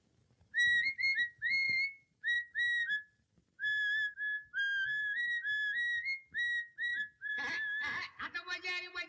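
A person whistles a lively tune in short, bright repeated phrases with brief pauses between them, clear and close, and a voice briefly joins at the very end.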